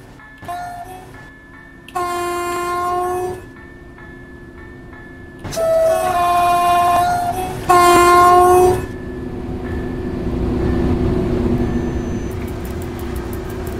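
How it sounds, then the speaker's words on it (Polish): An EP09 electric locomotive, number EP09-011 in Niepodległa livery, runs in the MaSzyna train simulator, sounding three loud horn blasts of varying length before a steady rolling rumble takes over. "Uwielbiam jeździć EP09. Jest to taka lokomotywa z charakterem."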